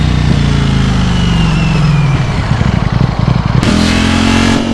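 A Ducati Streetfighter V4S ridden through rush-hour traffic gives a steady, loud engine drone with wind roar, dipping briefly as the revs drop, then climbing again as the rider accelerates.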